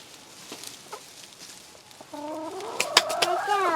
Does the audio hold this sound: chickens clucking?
yes